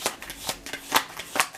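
A deck of tarot cards is shuffled close up, giving a quick run of soft, papery riffles and flicks, five or six bursts in under two seconds, with no talking.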